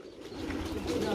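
Pigeons coo in a single brief, soft, low throaty call, fairly close.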